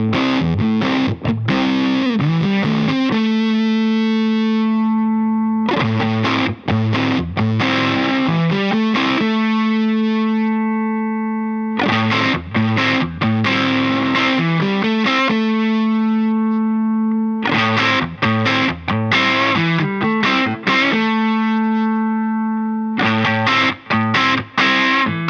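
Electric guitar played through a Kasleder Germanium Vintage King germanium pedal gives a tight, bright, thin-bottomed treble-boosted distorted tone, loud repeated chord phrases separated by short pauses, alone without talk.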